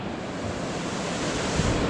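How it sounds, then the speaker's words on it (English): Water pours into a big harbour lock as a sailing boat waits inside, making a loud, steady roar that swells slightly, with no voices. "The water's just started coming in now."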